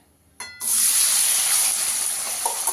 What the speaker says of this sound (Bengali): পনিরটাকে একটু হালকা করে ভেজে নেব